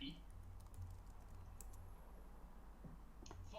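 Light, quick typing on a computer keyboard, faint and close, with scattered key clicks over a low room hum.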